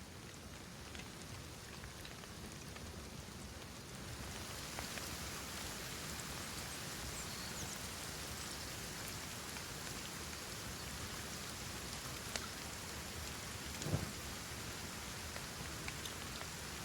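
Steady rainfall in the video game Kenshi, a constant even hiss of drops on surfaces that grows slightly louder partway through, with a few faint isolated ticks and no voices.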